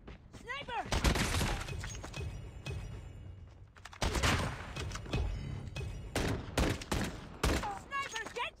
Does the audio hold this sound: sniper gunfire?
yes